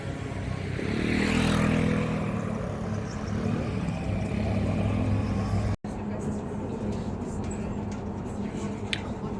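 Busy street traffic in Nice on the French Riviera, with motorcycles among the passing vehicles: a steady loud engine rumble and road roar throughout, a heavier pass early on, and a brief dropout midway.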